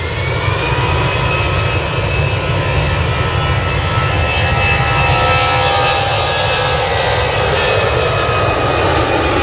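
An EasyJet jet airliner passes at Manchester Airport, a loud, steady jet engine roar with a whining tone, sustained and close throughout with no talk.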